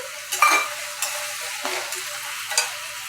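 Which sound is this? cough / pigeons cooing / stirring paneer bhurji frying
stirring paneer bhurji frying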